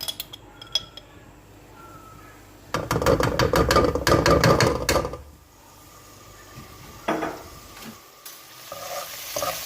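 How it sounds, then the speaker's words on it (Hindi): Garlic sizzles in hot oil while a utensil stirs and scrapes the pan in bursts, with quieter clinks in between. "अब हमने ये 1 टीस्पून हमने लहसुन का डाला है।"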